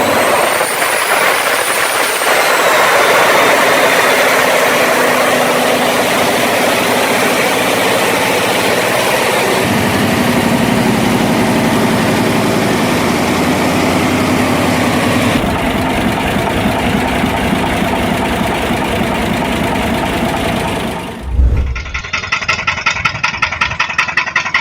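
A massive heavy diesel engine cold-starts and settles into a loud, steady idle, a dense continuous roar that shifts in tone partway through before a brief break near the end.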